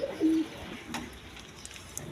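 A pigeon, one of a pair of Mosholdom pigeons at a market stall, gives a brief low coo near the start, then faint background noise follows. Quiet and close, with no talking.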